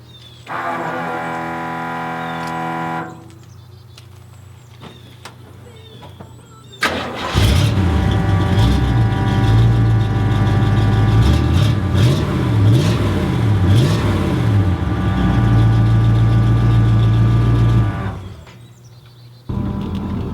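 A slammed Chevrolet C10 truck engine cranks and fires up loudly nearby, revs briefly, then settles into a steady rumbling idle for several seconds before shutting off.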